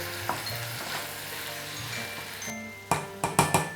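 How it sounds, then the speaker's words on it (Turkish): Tomatoes sautéing in a pan for a Turkish stew, with a soft steady sizzle and light stirring scrapes, then a few louder clatters of the spoon near the end. "Şimdi sıra domateslerde. Bir iki dakikada onları kavuracağım."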